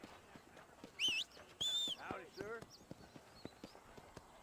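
Horse hooves clip-clop in the Red Dead Redemption video game, a quick run of soft footfalls mixed with game sounds and whistles while someone talks over them.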